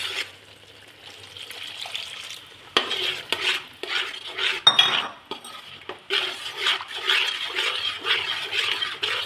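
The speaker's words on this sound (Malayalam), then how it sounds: "ഇനി നമുക്ക് ആദ്യത്തെ പാല് ഒഴിച്ചു കൊടുക്കാം" Ladle stirring and scraping in a pot as first coconut milk is poured into tender coconut payasam, with soft liquid swishes, metal clinks and a gentle sizzle, close and steady with no talk.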